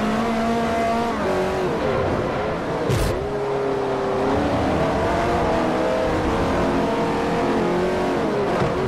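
A Ferrari F430 engine roars loudly in the Forza 4 racing game, revving through gear changes with a sharp shift near the middle, then climbing again at sustained high volume.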